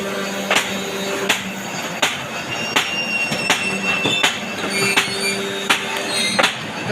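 A paper cutting machine runs in a factory, slicing fed paper into set lengths. Sharp, regular clacks land about every 0.7 seconds over a steady mechanical whir, close and fairly loud, with no voices.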